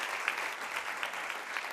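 Round of applause from the audience at a city commission meeting, a steady wash of many hands clapping, moderately distant and even, with no pauses across the short stretch.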